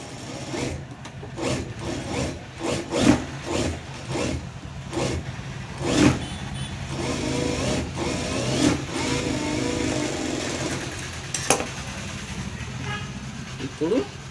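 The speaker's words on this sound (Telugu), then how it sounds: "కుట్టు వేసుకోవాలన్నమాట." A sewing machine stitches a blouse in short bursts of rapid mechanical chatter, each starting and stopping again, close by, with someone talking over it.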